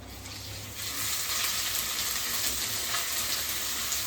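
Dried fish curry with drumsticks and raw mango sizzling in a pan, a steady broadband hiss of frying that swells after the first second and holds evenly, with no talking.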